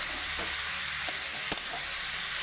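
Ash gourd is stirred and sautéed in oil in a pan, heard as a constant bright sizzle with a few soft scraping knocks from the stirring, close and without speech.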